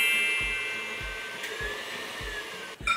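Electric hand mixer beating lemon square batter in a kitchen, a close, steady whirring hum with rhythmic low thumps about every half second as the beaters knock the bowl, ending with a brief clatter.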